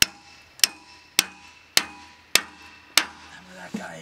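A hammer drives a log dog in on a sawmill, six sharp, evenly spaced metallic strikes about every half second, close and loud, each ringing briefly before the next blow.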